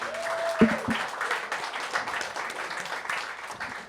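An audience applauds with a steady patter of many hands clapping, moderately loud, after a brief thump near the start.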